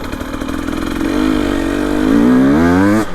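A 2025 Husqvarna TE300 Heritage Edition dirt bike with an FMF Fatty pipe accelerates hard and close, its raspy two-stroke note climbing steadily in pitch for about three seconds before cutting off abruptly.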